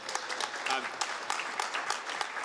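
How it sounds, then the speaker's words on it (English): A crowd at a town hall meeting claps steadily, the dense applause filling the room at a constant level throughout. "Give yourselves a round of applause for that."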